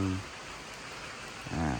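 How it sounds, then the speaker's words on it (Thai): Rain falls as a steady, faint, even hiss, with a voice speaking briefly at the start and again at the end. "น้ำฝนมาละ"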